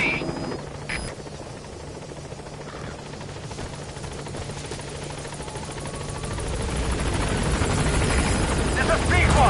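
Support helicopter arriving at a landing zone in Metal Gear Solid V, a steady rotor drone that grows louder toward the end, with a voice speaking over it.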